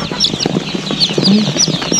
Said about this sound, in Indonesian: ini ayam Arab kayak gimana gitu